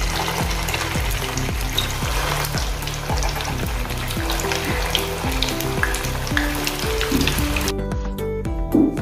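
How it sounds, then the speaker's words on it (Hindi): Semolina and wheat flour vadas fry in hot oil with a loud, continuous crackling sizzle, close up and steady throughout with no talking. "बाकी के जो बचे हुए हैं वो भी ऐसे ही हम तलेंगे अभी।"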